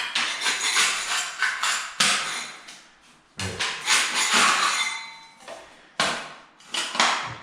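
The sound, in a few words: scraping asbestos floor tiles into a pile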